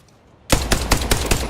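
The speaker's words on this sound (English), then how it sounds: "I am taking fire." Rapid gunfire from a battle royale video game erupts after a half-second of near silence, a string of sharp, loud shots in quick irregular succession.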